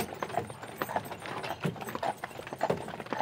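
A horse's hooves clip-clopping on the road while pulling a carriage in Fischbachau, a steady rhythmic series of fairly quiet hoofbeats close by, with no talking.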